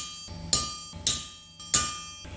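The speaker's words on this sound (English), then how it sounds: "The proceeding step is to mark the drill location with this sharp point." A hammer strikes a sharp point to mark a drill location on a ceiling hook workpiece, three sharp metallic taps spaced about half a second apart, close and ringing briefly, with no voices.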